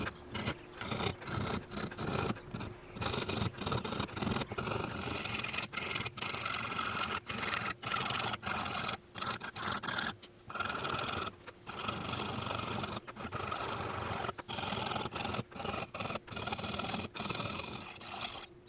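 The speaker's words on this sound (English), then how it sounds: "When cutting inlays, I like to start with all the inside cuts first before moving on to the perimeter." Fine cutting of a guitar headstock logo inlay produces a continuous rasping, scraping sound, close and fairly quiet, broken by frequent short pauses throughout.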